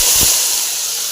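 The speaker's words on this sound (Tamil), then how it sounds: "எண்ணெய் சூடாகிடுச்சு வந்து மிளகு ஜீரகம் சொம்பு மூணு போட்டுடலாம் அப்புறம் சின்ன வெங்காயம் போட்டுடலாம்" Black pepper, cumin, fennel seeds and shallots dropped into hot oil for a Tamil kuppaimeni herbal soup, giving a loud, steady hiss with a brief low burst near the start that fades to an even sizzle.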